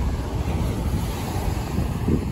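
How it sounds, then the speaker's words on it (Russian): Steady roar of ocean surf on the Argentine coast and wind buffeting the microphone, waves rushing continuously with no voices. "Такие волны."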